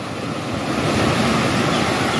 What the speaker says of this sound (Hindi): पानी का थपेड़ा कैसा चल रहा है।